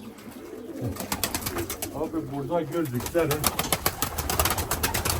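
Pigeons coo steadily in a coop in a throaty, rolling chorus, with wing flutters and someone speaking Turkish over them nearby.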